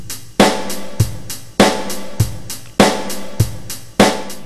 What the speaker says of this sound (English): the backbeat of a rock beat